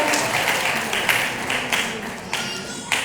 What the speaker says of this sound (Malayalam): നല്ലൊരു കയ്യടിയോടുകൂടി നമുക്ക് ആ കലാകാരിയെ ആദരിക്കാം